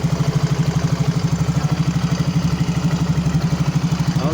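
A Yamaha Mio J scooter engine idles smoothly with a steady, even putter and a faint rhythmic ticking, close and moderately loud, heard alone with no talking.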